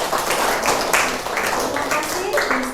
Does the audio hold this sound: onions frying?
no